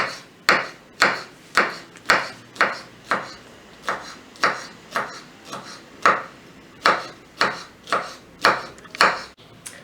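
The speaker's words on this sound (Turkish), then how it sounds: "sivri biberlerimizi güzel güzel doğradım" A knife chops green peppers steadily on a cutting board, about twenty crisp, evenly spaced strikes, close and clear with no talking.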